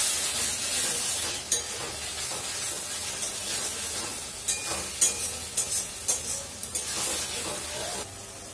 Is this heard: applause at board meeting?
no